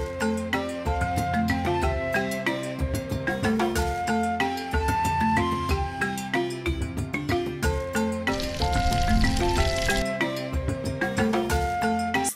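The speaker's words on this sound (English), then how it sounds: "the sliced onions and leave it to simmer for some time" Sliced onions simmering and sizzling in hot oil for gari fortor, a village dish cooked outdoors, give a steady crackling fry under a busy bed of music, with a brighter burst of sizzle near the end.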